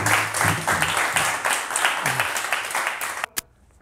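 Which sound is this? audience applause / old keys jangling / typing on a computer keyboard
audience applause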